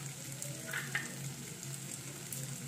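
Pasta with coriander leaves stirred in a hot pan, a soft steady sizzle with a few faint scraping clicks of the spoon, quiet and close, with no voices.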